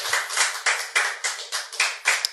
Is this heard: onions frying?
no